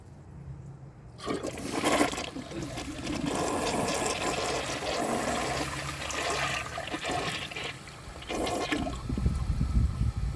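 A 2005 American Standard Cadet toilet flushes with a sudden loud whoosh of rushing water, followed by steady draining and refilling gurgles and a second surge near the end.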